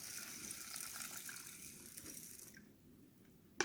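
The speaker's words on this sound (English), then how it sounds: "then I'm putting my finger on top of the rice and then I pour the water in." Water poured from a tap into a pot of rice being cooked for a chicken and shrimp stir fry, a steady close gushing fill that cuts off near the end with a faint clink.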